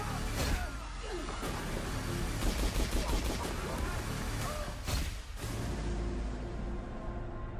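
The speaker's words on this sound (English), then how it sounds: "Gunshot sound is looking good" Gunshots in the trailer for the film The Assistant: a dense, loud volley of rapid shots and bursts of fire, repeated cracks over a constant rumbling soundtrack.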